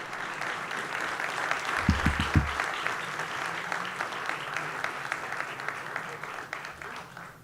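An audience at a forum on Mexico and international security gives a sustained round of applause, steady clapping running the full length with a few dull thumps near the start.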